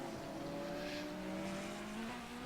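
An LMP1 prototype race car engine drones steadily in a sim racing game at Spa, a faint, sustained high-revving tone with slowly rising pitch, heard alone at a distance.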